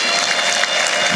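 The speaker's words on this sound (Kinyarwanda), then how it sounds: "Muyimpera amashyi bagira akantu gatoya." A church congregation at an ADEPR Gasave service applauds, a loud, dense wash of clapping filling the brief moment without pause.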